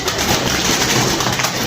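A red pigeon coos up close in a loft, a short, steady, soft throaty call that fills the whole moment.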